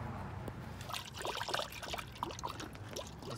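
Coolant gurgles and trickles as it is poured into a new Mishimoto radiator on a Honda Prelude, a soft, continuous bubbling wash of liquid with no voices.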